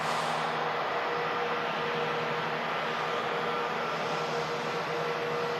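A plane arriving from Orlando at Manchester Airport roars steadily and loudly, a broad, constant engine rush with a faint whine, and no talk over it.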